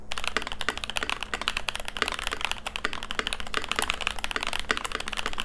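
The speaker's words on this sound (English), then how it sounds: "The Keychron V1 is a TKL keyboard" Rapid, steady typing on a Keychron V1 TKL mechanical keyboard with a molded ABS plastic case, clacky plastic keystrokes close up and no talking.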